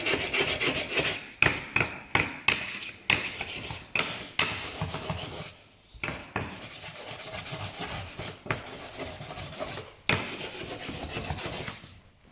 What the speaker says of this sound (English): It's still struggling to go through the first spot, so I might sand that down.